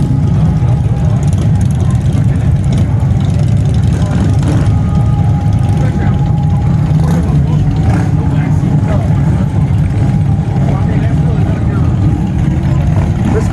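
A crew of motorcycles, including a Harley-Davidson FXR, rolls through town in a steady, loud, continuous engine roar that holds at close range throughout without letting up.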